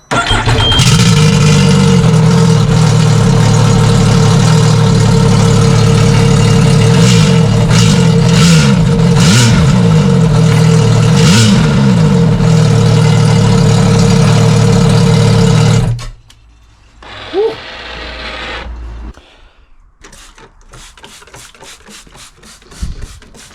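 A Sea-Doo Spark personal watercraft engine fitted with a cutback exhaust box runs loud and steady, revving up and down for about sixteen seconds before cutting off, leaving a few quieter clunks and softer noise.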